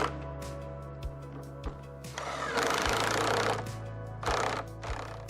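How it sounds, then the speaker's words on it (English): An impact driver with a 1/2 inch socket drives lag screws and washers into a shop wall, giving two bursts of rapid hammering rattle, the first longer, against a quiet background hum. "I used an impact driver with a 1/2 inch socket to drive the lag screws and washers"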